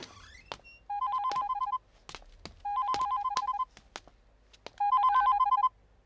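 A telephone rings in three evenly spaced bursts of electronic trilling, with faint thumps and movement in the gaps between rings.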